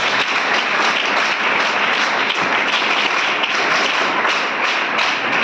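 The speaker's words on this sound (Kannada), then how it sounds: "ಅದಕ್ಕೂ ಕೂಡ ಒಂದು ಜೋರಾಗಿ ಚಪ್ಪಾಳೆಯನ್ನು ತಟ್ಟಂತೆ." Loud, dense applause from an audience at a Karnataka journalists' association press day event, a continuous wash of many hands clapping with occasional thumps, sustained throughout with no speech over it.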